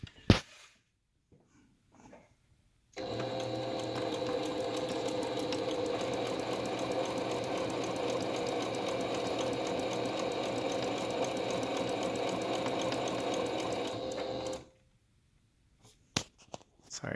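Home sewing machine stitching bias tape onto a medical face mask, running steadily at close range for about twelve seconds, with quiet handling noises and small knocks before and after.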